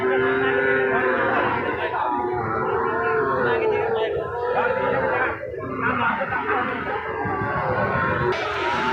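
Bull calves lowing at a busy cattle market in Joypurhat, with cows calling out over a steady background of crowd chatter and people talking nearby throughout.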